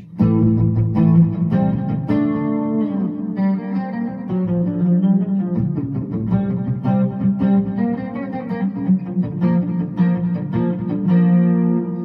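Electric guitar chords ring out through a Zoom G2 effects processor in a distorted, effects-laden tone, strummed repeatedly with sustained notes and changing textures, no voices present.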